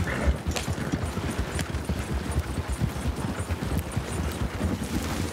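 Horse hooves clop steadily as a horse pulls a wagon in Red Dead Redemption 2, a continuous close rhythm of hoofbeats with a low rumbling roll of the wagon beneath.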